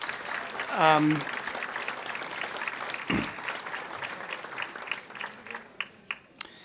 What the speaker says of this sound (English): So first, a round of applause for all the nominees and teachers.